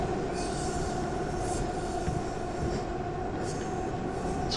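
Steady, close rumble of a metro train running through a tunnel in a Czech metro simulator game, with faint wheel squeal and rail clatter holding constant throughout.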